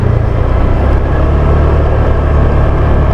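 A motorcycle engine running while being ridden, a loud, steady low drone with a constant rumble close to the listener and no talk.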